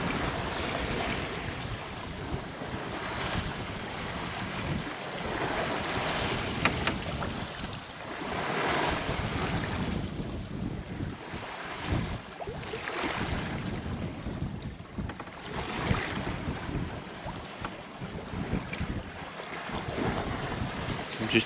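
Gentle water laps against the hull of a sailboat on a calm day at sea, with soft swells rising and falling in slow waves. Wind rushes steadily across the microphone throughout.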